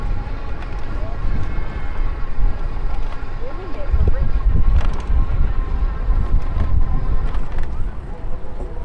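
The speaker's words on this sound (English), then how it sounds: "It's pretty windy up here." Steady wind rumbles and buffets against the microphone at the Washington Monument, loud and low, with faint background sounds underneath.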